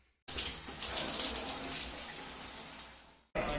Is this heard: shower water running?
yes